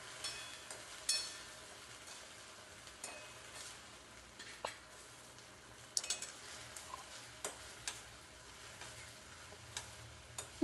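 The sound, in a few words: stirring beetroot manchurian balls into sauce in a pan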